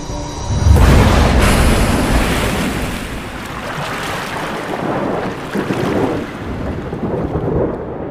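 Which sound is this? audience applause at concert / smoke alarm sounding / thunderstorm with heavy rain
thunderstorm with heavy rain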